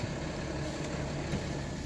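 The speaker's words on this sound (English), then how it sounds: "Shut up, truck." A truck passes outside, a steady low engine rumble holding through the whole stretch at moderate distance with no talk over it.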